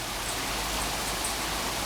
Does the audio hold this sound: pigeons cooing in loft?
no